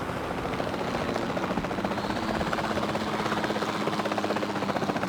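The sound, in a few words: helicopter flying in the video game Jurassic World Evolution 2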